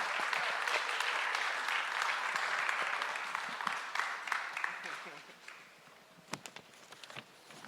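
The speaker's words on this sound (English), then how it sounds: "Let's have another round of applause for our great panel tonight." A large audience applauds a panel at an ACLU Montana 50th anniversary celebration, a dense, sustained wash of clapping that gradually thins and fades, with a few scattered claps and murmurs at the end.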